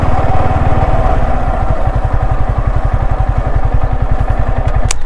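A parked motorcycle's engine idles nearby with a loud, steady low putter throughout, ending in a brief sharp click.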